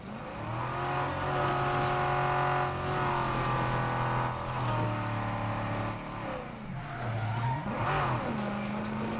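A car in the zombie-survival video game State of Decay 2 drives with a steady, loud engine drone and changing pitch, punctuated by tire squeals and skids, with no talking over it.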